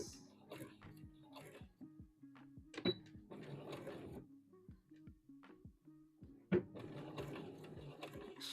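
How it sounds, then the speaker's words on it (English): A home sewing machine runs stitching a wrap dress seam to its end, a steady mechanical whir broken by short pauses and a couple of sharp clunks, close and moderately loud with no talking. "So let's go ahead and sew all the way to the end here."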